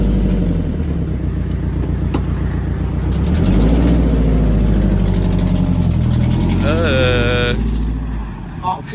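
A Mazda Miata drift car engine idling and revving unevenly, its low harmonic drone rising and falling, with a brief higher whine near the end; no one speaks over it.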